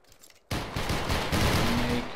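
Musket line volley in the video game Battle Grounds III, a sudden loud burst of many shots fired together that rolls into a dense, sustained crackle of gunfire.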